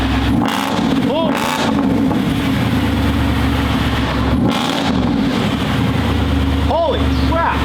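A loud, deep Mercedes-AMG SLS engine rumbling steadily close by through an aftermarket exhaust, with sharp revs and crackles, while people talk and react over it.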